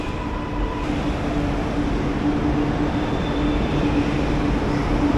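A steady, loud rumble of a metro train arriving at Little Mount station in Chennai, India fills the whole stretch, with a constant hum and faint high whine as it moves through the station.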